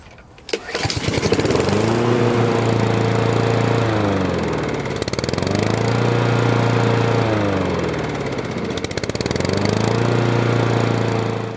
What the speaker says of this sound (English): So I'm going to go run another third of Seafoam right through the engine